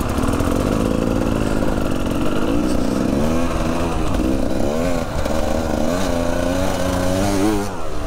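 A loud enduro motorcycle engine runs steadily close by, its revs rising and falling in wavering surges as the bike pulls away in second gear on an off-road course in Spain.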